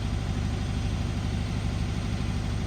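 A 2011 Dodge Charger police-package V8 with a bad motor idles close by, a steady, rough low rumble with a regular pulsing beat and no talking.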